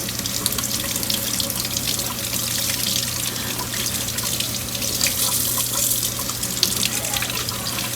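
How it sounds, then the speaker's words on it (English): Tap water runs steadily over a bunch of fresh asparagus being rinsed in a kitchen sink, a close, continuous splashing stream with small drips, holding level throughout with no talk. "I have a bunch of asparagus here that I'm going to air fry, so I'm just going to rinse."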